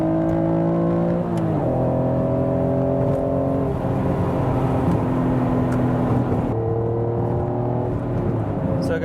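Acura NSX engine heard from inside the cabin while driving, a steady smooth drone with shifting tonal layers that step up and down through gear changes, loud and continuous with no talking.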